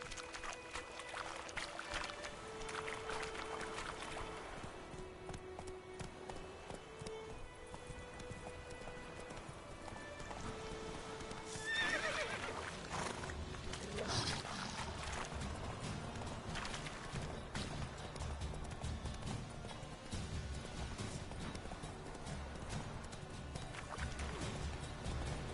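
Roach the horse trotting in a video game, a steady clip-clop of hooves that runs through the whole stretch under music and ambient game sound, with no clear neigh standing out.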